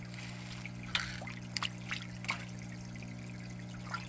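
Big bluegill fish splash and slap at the water surface of an aquaponics tank as they strike at food, several short wet bursts scattered over a steady pump hum, close by, with no voices.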